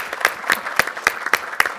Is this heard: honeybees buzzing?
no